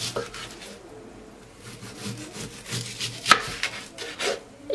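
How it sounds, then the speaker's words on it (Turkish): A knife finely chops chicken döner rapidly and steadily on a cutting board, with short repeated strokes and one sharper knock near the middle. "Elimden geldiğince ince doğramaya çalışıyorum."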